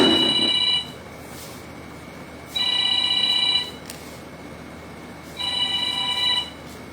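A telephone rings in three separate bursts of bright electronic trilling, each about a second long with short silent gaps between, heard close and alone in a quiet room.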